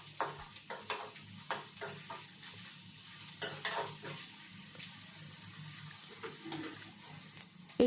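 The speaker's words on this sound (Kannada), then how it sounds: "ಕರಿಬೇವು ಮತ್ತು ಹಸಿಮೆಣಸಿನಕಾಯಿ ಎಣ್ಣೆಯಲ್ಲಿ ಸ್ವಲ್ಪ ಫ್ರೈ ಆದರೆ ಅದರದ್ದು ಘಮ ಮತ್ತು ಖಾರ ಎಲ್ಲ ಬಿಟ್ಕೊಳ್ಳುತ್ತೆ." Curry leaves and green chillies frying in hot oil for avalakki chitranna, a soft sizzle with repeated spoon stirring scrapes and taps in a pan, close and moderately quiet.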